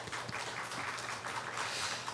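A church congregation at a Sunday worship service claps together, a steady, fairly close burst of applause with no talking over it.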